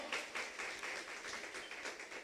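A church congregation breaks into applause during a sermon, a soft, distant patter of many hands clapping that continues evenly for a couple of seconds.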